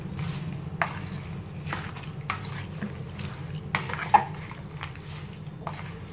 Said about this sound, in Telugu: చక్కగా మిక్స్ చేసుకుందాము